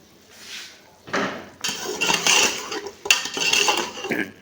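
Clanking metal of a lid lifted off a pot of slow-cooked meat, with a few sharp scraping clatters and rattles, close by and fairly loud, no talk.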